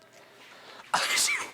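One sharp, loud sneeze bursts out suddenly after a quiet lead-in and trails off over a moment.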